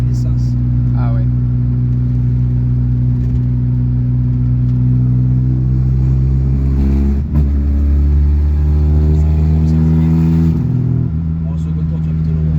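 A Ford Fiesta engine drones loudly and steadily at close range, rising and falling as it is driven, while people talk over it.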